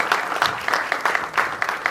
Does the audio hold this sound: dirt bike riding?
no